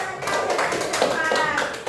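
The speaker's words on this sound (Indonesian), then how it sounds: "Tepuk tangan dulu dong." Children in an elementary classroom clap their hands together in a dense, steady burst that continues for about two seconds, close and fairly loud, with faint voices mixed in.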